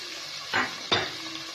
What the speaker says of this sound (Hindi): चिकन को फ्राई करते हैं